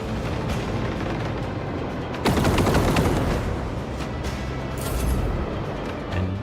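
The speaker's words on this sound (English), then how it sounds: "Might as well take out these torpedoes." Starship torpedoes fire in the Rogue Trader space combat game, a dense crackling burst of rapid explosive volleys that swells sharply midway over a continuous rumbling battle background.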